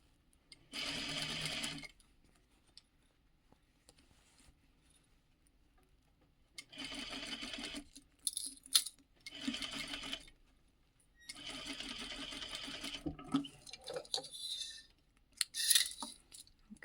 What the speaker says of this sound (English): so now we just need to sew the dart